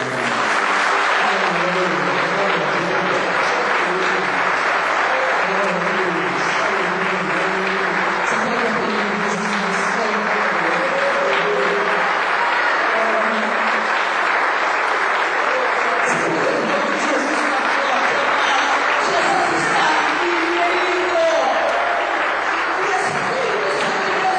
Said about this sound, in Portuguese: A gente vai aplaudir Jesus junto agora, solta da mão dele, vamos aplaudir